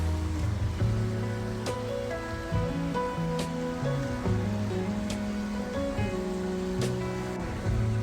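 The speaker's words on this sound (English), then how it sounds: "Just sit here and listen to the water." Water laps and washes steadily near a shore, with gentle tonal music playing throughout.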